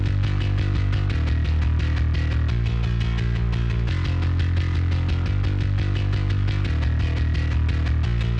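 Punk-style bass guitar from a bass sample library on a distorted dirty amp channel, playing a driving line of repeated low notes with gritty overtones, loud and continuous with no talk.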